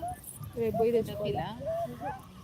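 A puppy whimpers close by in a series of thin, high, wavering whines, with little breaks between them.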